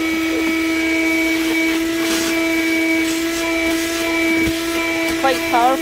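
A Black & Decker Flex car vacuum runs steadily at close range, a constant motor whine with stable tonal hum throughout, plus brief shifts near the end as an attachment or hose moves.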